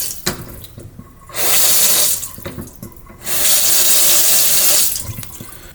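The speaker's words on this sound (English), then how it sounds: "And this was a faucet." Water runs from a household faucet repaired with J-B Weld cold weld steel glue. It comes in two loud, hissing bursts of flow into a sink, with quieter handling noises in the pauses.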